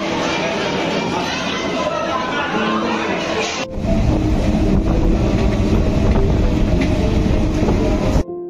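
A Kolkata local train to Dakshineswar rumbles steadily with dense rail noise and wind buffeting, the clatter growing louder partway through, with people chattering in the background.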